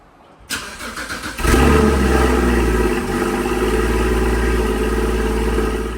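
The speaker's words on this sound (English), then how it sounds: "So let's get her started and get a cold start so you can have a listen." A Porsche Cayman GT4 with an Fi exhaust, its valves locked open, cold-starts: a starter whirs briefly, then the flat-six catches with a loud bark and settles into a raspy, high, steady idle.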